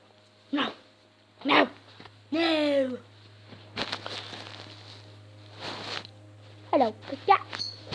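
A little puppy barks and yips in a home, several sharp, close, high-pitched barks in short bursts with whimpers between them, while people talk throughout.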